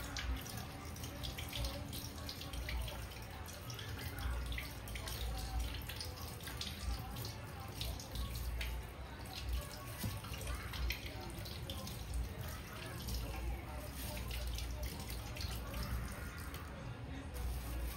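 Potatoes are rinsed under running tap water, a steady close splashing stream with small knocks and scrubbing throughout.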